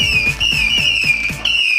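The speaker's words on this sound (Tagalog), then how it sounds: "Lakas sumipol yan." A loud, shrill whistling firework shot from Agila Pyro holding one steady piercing tone, with a rapid run of about six sharp pops beneath it before it cuts off abruptly.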